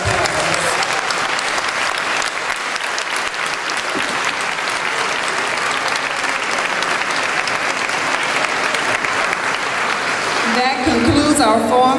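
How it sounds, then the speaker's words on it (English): An audience at a 2016 Richmond mayoral candidate forum, held in a high school, breaks into steady, full applause that continues for about eleven seconds before a voice cuts in at the end. "Let's give all of our candidates a round of applause."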